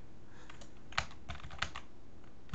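Close computer keyboard typing of a dig command, a handful of quick key clicks in short bursts with brief pauses, quiet and without speech.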